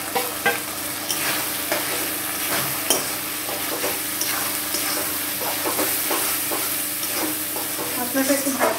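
Turmeric, chili powder and Kashmiri chili powder frying in a pan for mutton curry, a loud steady sizzle overlaid with frequent scraping stirs and occasional clinks of a spoon against the pan.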